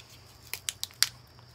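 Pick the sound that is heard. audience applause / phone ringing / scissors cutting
scissors cutting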